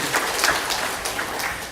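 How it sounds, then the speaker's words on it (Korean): A church congregation claps together during a Sunday sermon, a dense, steady wash of applause filling the room with a few sharper individual claps. "박수 한번 치세요."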